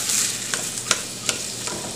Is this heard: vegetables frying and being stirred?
yes